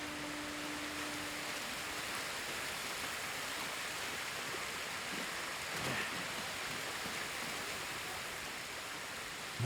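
Steady broadband rush of a waterfall in the game Ghost of Tsushima, a constant even roar of falling water throughout with no one speaking.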